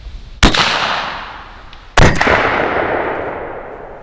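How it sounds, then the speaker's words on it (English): .38 Special rounds fired outdoors from a 12 gauge shotgun barrel insert give two loud, sharp reports about one and a half seconds apart, each trailing off in a long echoing decay. ".38 Special out of the 12 gauge barrel insert."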